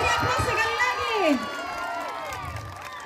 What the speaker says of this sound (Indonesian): Beri aplaus sekali lagi.